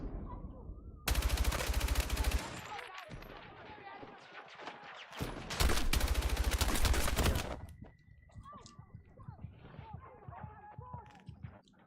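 Bursts of automatic gunfire in Battlefield 6, two long dense volleys separated by quieter battlefield noise, loud and close, with players talking over the action.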